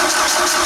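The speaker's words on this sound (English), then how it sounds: "Oh yeah, it cranks very well." A Genie boom lift engine cranking, a brief, loud, steady mechanical whirr heard on its own.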